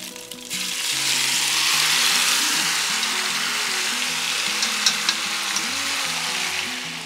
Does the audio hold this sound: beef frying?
yes